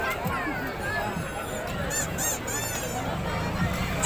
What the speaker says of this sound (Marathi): हे पोपट पिपाणी.